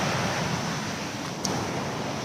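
A waterfall on a village stream in Konkan gives a steady, unbroken broadband rush of falling water that fills the whole stretch at an even level, with no voices.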